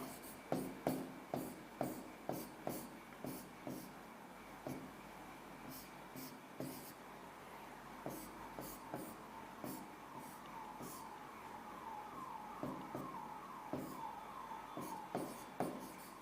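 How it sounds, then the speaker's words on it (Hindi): Marker or chalk writing on a board during a chemistry lecture on isomerism, quick repeated tapping and scratching strokes in bursts, fairly faint in a quiet room, with a siren-like tone faintly in the background and no talking. "यहां लिख देता हूं"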